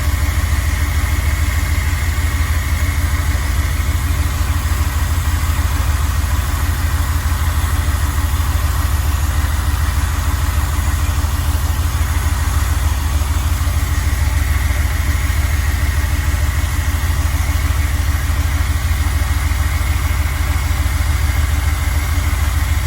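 Car engine idling unevenly with a carburetor problem, a steady close low rumble that runs throughout without pause and with no talk over it.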